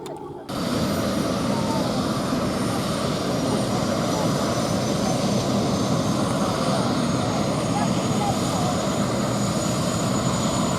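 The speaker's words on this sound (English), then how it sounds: "here comes the Cub tug to drop the tow line" A Piper Cub tug aircraft flies past at an air display, its propeller engine droning loud and steady after a brief quiet start, a continuous rough buzz that holds throughout.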